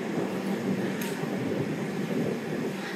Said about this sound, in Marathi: फायनली बेळगावला पोहोचलेलो आहे. अराउंड 7 ते 8 मिनिट लेट इथं ट्रेन पोहोचली.